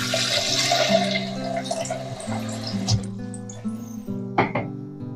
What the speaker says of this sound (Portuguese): pôr aqui 500 ml de água fria também já.